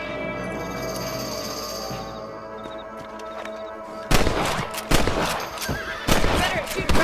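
Sharp rifle shots from a Red Dead Redemption hunt for rabbits, three or four loud cracks spaced about a second apart in the second half, over a steady hum of ambient game music and wind.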